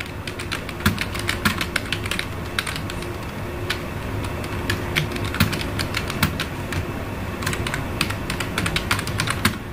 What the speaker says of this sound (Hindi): तो यहाँ पे मैं वही टाइप कर दूंगा